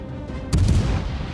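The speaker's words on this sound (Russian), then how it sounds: "Он сейчас бахнет, один выстрел в меня" Warship cannon fire in World of Warships Legends: one sharp, loud boom with a low rumbling tail, set against a steady background of game sound.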